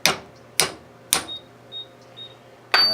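A bullet casing tapped for a hull necklace, four sharp metallic taps spaced unevenly, the first three close together and the last after a pause, with faint ringing between, close and with no talk.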